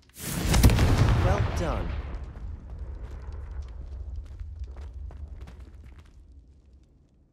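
Confringo fire spell blasts in Hogwarts Legacy: a loud explosive boom bursts up front and rumbles away over several seconds, with smaller crackles scattered through the fading tail and a brief spoken voice.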